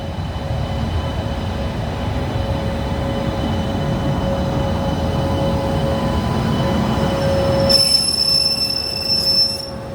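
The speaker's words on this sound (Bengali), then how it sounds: "আপনারা দেখতে পাচ্ছেন আমাদের ট্রেনের সঙ্গে শান্টিং হবে।" A Howrah-based WAP7 electric locomotive shunting onto a train makes a loud, continuous heavy rail rumble, with sharp high wheel squeals breaking out toward the end, close by and with no voices.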